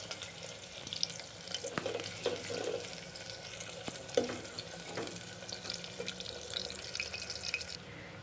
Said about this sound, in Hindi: इनको हम गोल्डन ब्राउन होने तक हल्की आंच पर पकाएंगे।